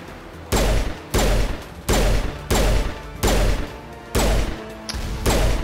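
Pistol fire in the Mass Effect video game: eight heavy, booming shots in a steady rhythm about two-thirds of a second apart, each with a short ringing tail, loud and close.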